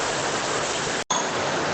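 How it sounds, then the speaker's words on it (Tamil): Heavy rain pours steadily in a dense, loud hiss with no pause except one brief dropout midway. "கொஞ்சம் மழை சவுண்டில் சார் ஒன்றும் புரிய மாட்டேங்குது"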